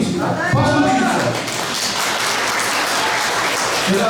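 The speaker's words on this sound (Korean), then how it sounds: "박수 한번 주십시오" An audience applauds at a book concert in Osan, with dense, steady clapping that fills the room for several seconds and fades gradually toward the end.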